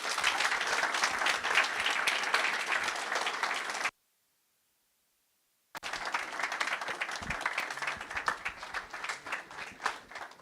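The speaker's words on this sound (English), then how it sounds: "I don't think we have to stop clapping now" An audience at a Mfantsipim Old Boys Association national conference claps after a speech, dense steady applause that cuts out for about two seconds and then resumes just as strongly.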